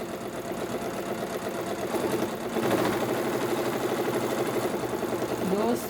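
A sewing machine runs a steady, continuous stitch across fabric to gather it, humming and whirring close by at an even pace for the whole stretch with no break.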